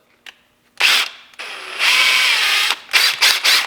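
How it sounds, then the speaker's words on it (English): A power drill with a small bit bores a pilot hole into wood near the edge: a brief whir, then a longer sustained drilling run, followed by several quick bursts, close and loud. "drill a pilot hole first."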